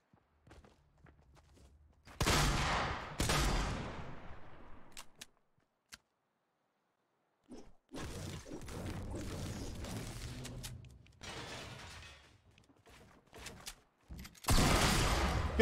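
Heavy weapon fire in the battle royale game Fortnite, with loud bursts of gunshots, a stretch of quieter footsteps and movement, then another loud burst at the end.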